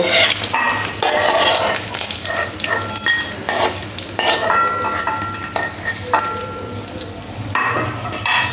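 Singi fish frying in hot oil in a pan until reddish, a steady loud sizzle and crackle with occasional stirring and scraping of a spatula against the pan, no talk.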